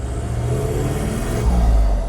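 A 2021 Toyota Land Cruiser 79 with a 4.5-litre V8 diesel and manual gearbox, its engine rumbling deep and close, with a heavier surge of revs near the end.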